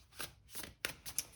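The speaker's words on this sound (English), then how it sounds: "let's try a usual shuffle" A new Light Seer's Tarot deck is riffled in several short, crisp bursts, the smooth cards slapping and sliding together close up with brief pauses between shuffles.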